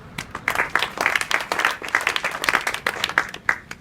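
Students clap together at a school adolescent education session, a dense, rapid burst of hand claps with uneven peaks that carries on steadily for several seconds, loud and close, with no talking over it.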